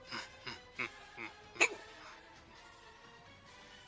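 A few short, sharp hiccups spaced out at irregular intervals, close and fairly faint, in a quiet indoor tabletop role-playing session.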